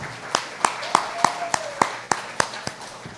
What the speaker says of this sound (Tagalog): Malakas sa palakpak para sa Panginoon